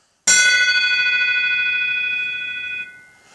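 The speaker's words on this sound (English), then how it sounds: "And it's got different tones coming off the different parts of the bell." A freshly cast bronze bell is struck once and rings out loud and close, a bright metallic strike followed by several clear overlapping tones that sustain for a few seconds before fading.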